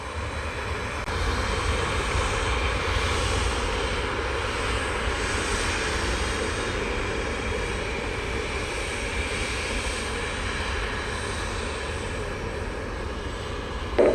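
Boeing 777-300 airliner engines roar steadily at Montego Bay airport in Jamaica, a loud, continuous broadband rumble holding level throughout with no voices.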